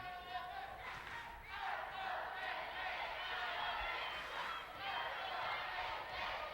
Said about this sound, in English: An Iona chant starting up in the crowd.